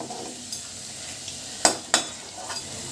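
Green leafy vegetable pakoras deep frying in oil, a soft steady sizzle with a few sharp clinks and scrapes from a utensil, close and alone without voices.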